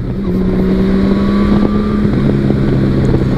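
Honda Valkyrie motorcycle engine under way, a steady droning rumble with wind buffeting the microphone, loud and continuous, a slight pitch rise suggesting acceleration.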